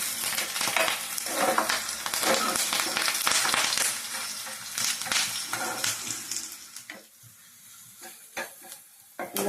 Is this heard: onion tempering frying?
yes